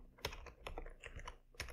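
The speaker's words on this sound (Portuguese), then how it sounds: "você pode simplesmente digitar Loren, e aí você aperta Enter" Quick keystrokes on a computer keyboard typing the word Lorem, then a firmer press of the Enter key, close and fairly quiet with no talk.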